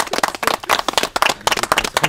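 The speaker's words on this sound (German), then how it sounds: "Ich würde sagen, das ist ein Applaus wert." Sharp, close hand claps from a small group in a hut, with quick uneven bursts of slapping claps that come in clusters and carry on without voices over them.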